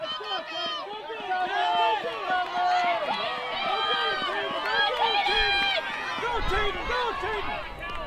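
A dense crowd of spectators yells and cheers continuously, many voices overlapping loudly throughout, with a brief low rumble near the end.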